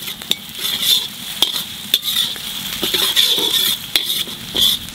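Chopped carrots stir-fry with ginger, garlic and onion in a pan for egg fried rice, a bright close sizzle punctuated by sharp, irregular clicks and scrapes of a spatula against metal.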